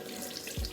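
A bathroom tap runs steadily while a face is rinsed with cool water, giving a close, continuous splashing hiss with a brief low gurgle toward the end.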